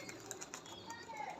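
Lotan pigeons at a large pigeon farm in West Bengal, giving a faint, brief soft cooing close by, with a quiet voice murmuring underneath.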